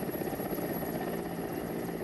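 A helicopter's rotor chops steadily and fairly loud during an Air Force rescue operation over floodwater, a continuous whirring thrum with no voices over it.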